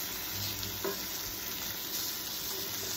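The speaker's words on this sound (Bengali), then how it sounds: "তো প্রথমে আমি শোল মাছগুলো ভালো করে ভেজে নিলাম।" Snakehead fish (shol) frying in hot oil in a pan, giving a steady, moderately loud crackling sizzle that runs the whole time, with one brief stir or clink partway through and no voices.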